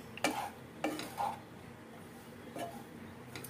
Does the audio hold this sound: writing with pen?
no